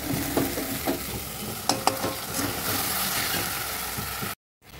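Spices including chili powder fry and are stirred in a pan, producing a continuous close sizzle with occasional spoon scrapes and taps, no talking, ending in a brief cut to silence.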